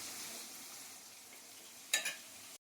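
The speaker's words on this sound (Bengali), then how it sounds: "পেঁয়াজটাকে ভালো করে ভেজে নিই" Onions sizzling as they fry in a pan, a steady quiet hiss throughout with a brief louder stir or clatter near the end.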